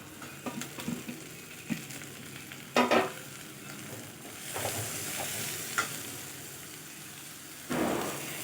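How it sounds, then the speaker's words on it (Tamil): Small onions and curry leaves sautéing in a pan for a cauliflower potato masala, with a soft continuous sizzle broken by stirring scrapes and a few louder spatula clatters; no voices. "கூடவே 2 கறிவேப்பிலை அதையும் சேர்த்து நல்லா வதக்கிக்கலாம்."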